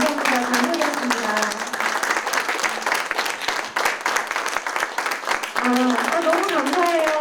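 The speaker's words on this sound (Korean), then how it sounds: "박수 쳐주셔서 감사합니다" Steady, dense applause from an audience of teachers fills the room after a live song performance, continuous clapping with a voice speaking over it near the start and again toward the end.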